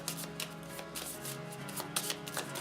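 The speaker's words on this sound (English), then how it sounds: "Shuffle, shuffle, shuffle" A deck of cards being shuffled during a Kingdom Death Monster board game, soft riffling flutters and papery slaps repeating in quick bursts, close and fairly quiet.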